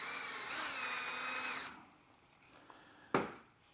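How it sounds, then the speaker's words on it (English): A power drill boring a 3 mm hole while installing Blum undermount drawer slides whines steadily for about a second and a half, pitch rising briefly, then stops, followed by a single sharp knock. "Got my 3 millimeters, drill my hole."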